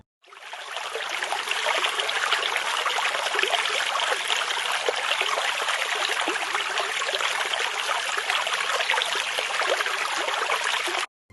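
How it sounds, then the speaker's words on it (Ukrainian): A babbling brook of flowing stream water makes a continuous, dense rushing and trickling hiss, steady and fairly loud throughout with no other sounds. "Так шумить струмочок."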